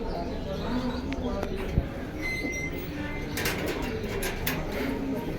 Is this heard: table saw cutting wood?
no